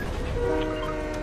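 A train in the video game Fortnite gives off a steady mechanical rumble with sustained horn-like tones over it, loud and continuous with no talk.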